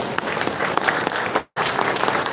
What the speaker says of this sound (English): I would like you all to give a standing ovation to all the 3 great personalities here.